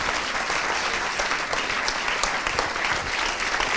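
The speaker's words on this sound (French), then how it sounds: "faire un tonnerre d'applaudissements à nos deux invités" A large audience at a film event applauds two guests steadily and loudly, dense clapping filling the whole stretch without a break.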